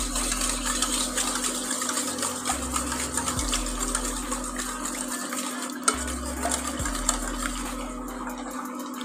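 Cake batter being beaten by hand in a bowl, with a steady background hum and soft, repeated stirring and scraping against the bowl, a couple of light clinks, close and fairly quiet, no talking.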